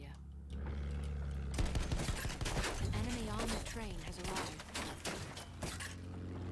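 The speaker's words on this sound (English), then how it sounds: "It's the same guy with the LMG shooting me all the time. I think he's using the M1917 MG." An M1917 MG light machine gun in Battlefield 1 fires in rapid, dense bursts, mixed with other battle noise and a voice speaking partway through.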